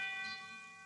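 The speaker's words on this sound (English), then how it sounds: "Why, that's the fire alarm bell" Fire alarm bell from an old radio drama, a sustained metallic ringing tone with a steady bright pitch that slowly fades over under a second, with no voices.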